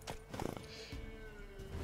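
In The Witcher 3 video game, a horse trots up on clip-clopping hooves and gives a neigh, close and fairly loud over ambient game sound, with hoof beats clustered near the start.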